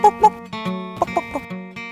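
Backyard chickens cluck close by in a few short, irregular bursts over a steady low background hum.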